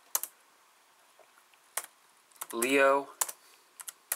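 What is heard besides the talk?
typing on a computer keyboard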